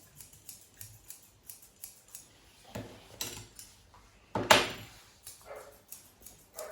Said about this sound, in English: I'm just rounding off everything that's going on.